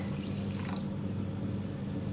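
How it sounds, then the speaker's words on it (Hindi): Water poured into soaked rice in a cooking pot while making aloo matar pulao, a steady low pouring and trickling sound running continuously and fairly quietly, with no talking. "थोड़ा सा पानी और डालूँगी मैं इसमें।"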